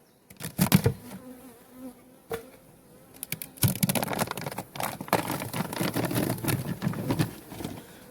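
Honeybees from a colony on a few frames at a forest apiary buzz densely around the open hive, a close, swelling drone with scattered clicks and knocks of frame handling, no speech.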